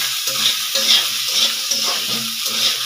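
Potato, cauliflower and peas stirred and frying in a pan, a steady close sizzle with repeated scraping strokes of the spoon through the food.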